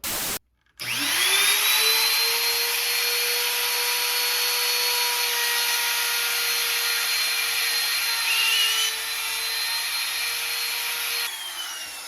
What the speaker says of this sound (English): You want your bit cutting against the wood as you go along.